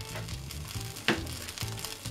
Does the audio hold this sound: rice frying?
yes